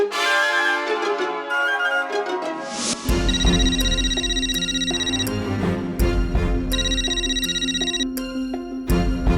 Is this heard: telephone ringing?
yes